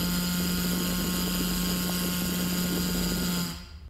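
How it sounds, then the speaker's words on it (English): Artificial vocal folds buzz while exposed to open air with no resonating space above them, giving a steady, harsh, continuous drone that holds loud for about three and a half seconds before cutting off abruptly. "this is what your vocal folds would sound like."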